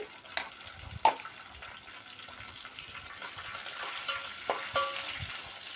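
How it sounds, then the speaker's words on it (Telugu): Chopped onions fry in a pan for upma, giving a soft, steady sizzle with occasional sharp clinks and scrapes of a utensil against the pan. "ఈ ఆనియన్స్ గోల్డ్ కలర్ వచ్చేంత వరకు వేయించుకుంటే"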